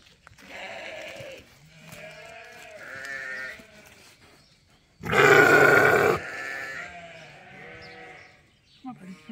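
Dorset sheep bleat in drawn-out, wavering calls close by in hot weather, with one much louder, harsh cry midway, then quieter bleats again.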